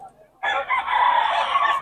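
A full stag gamefowl rooster at a market in Bocaue lets out a loud, close crow after a soft cluck, the call held steadily for over a second.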